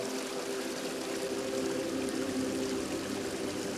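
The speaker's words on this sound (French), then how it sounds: "Après tout, petit ruisseau, garde bien ton secret." A small stream flows steadily throughout, a continuous watery rush with a faint tonal hum underneath, fairly close and unbroken.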